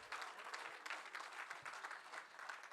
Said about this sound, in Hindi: अगर मैंने सही कहा हो तो एक बार जोरदार तालियां उनके लिए हो जाएं।